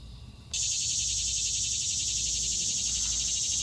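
Cicadas in a Texas Gulf Coast backyard break into a loud, dense, continuous buzz that starts abruptly after a quieter half-second and holds steady throughout.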